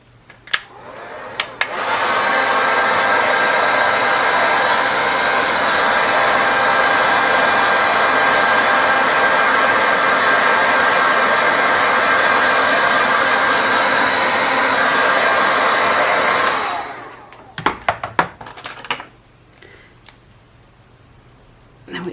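Hair dryer blows steadily for about fifteen seconds, drying a watercolour painting of a lighthouse, then cuts off, followed by a few brief handling clicks and knocks.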